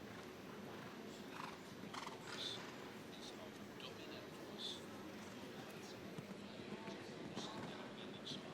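A stallion trots past at a stallion presentation event, its hooves clip-clopping steadily with an occasional whinny over a constant murmur of crowd noise.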